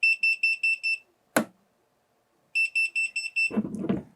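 A smoke alarm shrills in rapid high-pitched pulses, stops after a sharp click, then resumes its beeping before a rustling noise cuts in.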